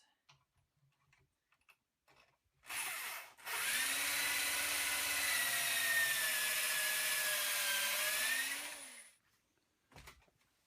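A power drill bores pocket holes into the wood of a handmade park bench, one sustained whirring run of about six seconds, nearby and fairly loud, starting and stopping abruptly amid quiet workshop ticks.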